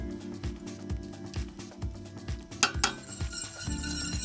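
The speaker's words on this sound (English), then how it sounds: "Whisk the butter in a bit at a time, adding more once the last bit has almost melted" Cold butter being whisked into a beurre blanc sauce in a pan, a quick rhythmic series of metallic clinks and scrapes from the whisk against the pan, steady then busier near the end.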